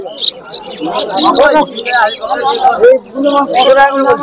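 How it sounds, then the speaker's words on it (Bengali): Lovebirds for sale at Uluberia pet market chirp and call close by, a busy mix of high tweets and squawks running the whole time over crowd babble and talk. "এখানে প্রচুর পরিমাণে লাভবার্ড রয়েছে দেখতে পাচ্ছেন"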